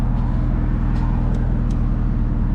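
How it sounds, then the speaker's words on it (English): Sixth-generation Chevrolet Camaro idling steadily with its engine running, a continuous low rumble with regular harmonic bands, close and fairly loud, with a few faint higher ticks over it and no talking. "I got the car turned on."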